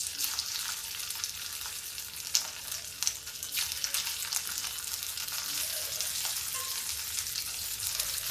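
Boiled potatoes hit hot oil with cumin seeds in a pan and sizzle loudly and steadily, with occasional spatter pops and stirring scrapes, and no talking.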